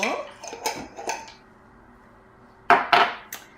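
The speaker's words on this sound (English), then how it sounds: "So we're putting a tablespoon of 3-onion in the bowl." A metal spoon clinks and scrapes against a bowl while 3-onion seasoning is added, with a few quick taps early on, a pause, and then two sharper clinks near the end.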